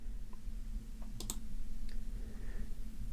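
A computer mouse clicked during a screen walkthrough of ClickFunnels 2.0 workflows: a quick pair of faint, crisp clicks over a steady low room hum, with no talking.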